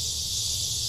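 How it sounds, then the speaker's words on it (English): Cicadas shrill steadily in the background throughout, a dense continuous high buzz with no breaks and no talk over it. "the cicadas in the background are going haywire"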